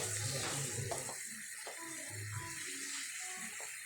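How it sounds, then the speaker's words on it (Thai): Thin coconut milk poured into a pot of Thai green curry with eggplant, a steady watery splashing and trickling that runs throughout at moderate level. "ใส่น้ำอันนี้เข้าไป น้ำหาง กะทิเรียกว่าน้ำหางกะทิ"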